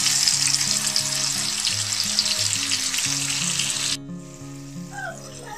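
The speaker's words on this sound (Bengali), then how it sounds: "তো এখন মিডিয়াম হিটে আস্তে আস্তে এই চাপটাকে ভেজে নিতে হবে।" Marinated chicken chaap frying over medium heat in a large frying pan, a loud bright sizzle with low repeating hum beneath that suddenly cuts away near the end, leaving a faint residual crackle.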